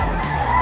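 A young rooster, a stag, crows once at a pet market in Bocaue, a short loud call close to the microphone over steady background din.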